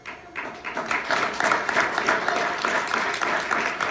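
An audience claps after a presentation, many hands building quickly from a soft start into a full, even burst of applause that holds steady for several seconds, close and fairly loud.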